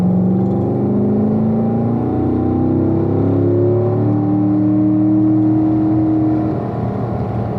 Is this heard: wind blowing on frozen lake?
no